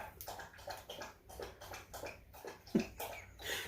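A dog laps water in a quick rhythmic series of wet slurps, close and fairly quiet, repeating steadily for several seconds with no talking over it.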